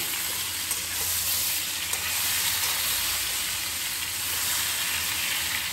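Mango pieces for a jaggery pickle are stirred in hot oil, giving a steady, even sizzle with a faint hiss that stays close and continuous, with no voices.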